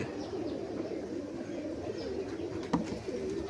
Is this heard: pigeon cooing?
yes